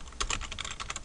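Rapid keystrokes on a computer keyboard as a website address is entered, a steady run of close, crisp clicks with no talking.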